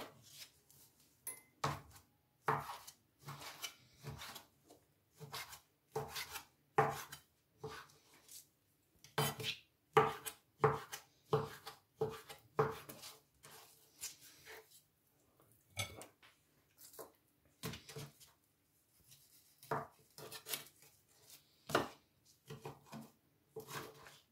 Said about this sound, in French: Après, on va couper en petits morceaux.